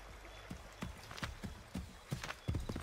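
Horse hooves clip-clop at a steady trotting rhythm in the Assassin's Creed 3 game on Xbox 360, around eight distinct thuds over a low background with no talk.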